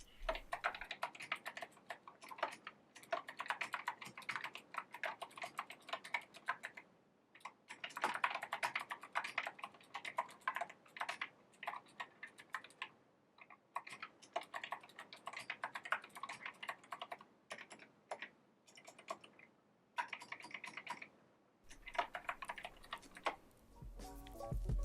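Close, crisp keystrokes on an Epomaker mechanical keyboard come in quick bursts of rapid clacking separated by short pauses, with no talking.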